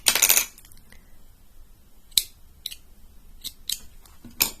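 Scissors snip through crochet yarn after the last petal of a coaster, with one louder opening snip and several sharp, quieter clicks of the blades.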